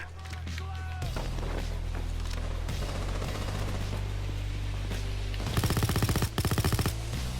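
Light machine gun fire in Payday 2, long rapid bursts of gunfire dense and loud under continuous game noise, ending in a fast rattling stutter, with someone talking over it.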